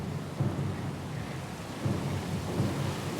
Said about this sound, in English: A little sloop? Lost and alone in the storm?